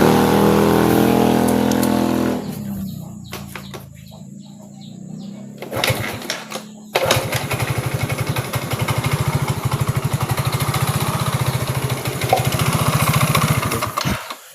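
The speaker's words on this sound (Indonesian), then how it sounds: "Oke, berarti ini motornya udah bisa hidup." Motorcycle engine starting and idling after a fix to a loose TPS and MAP sensor connector, a rapid steady thumping idle that starts after a few clicks and cranking bursts and runs loud and close to the end.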